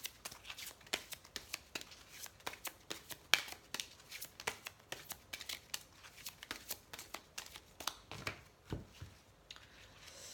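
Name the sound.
tarot cards being shuffled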